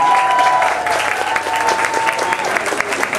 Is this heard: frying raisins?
no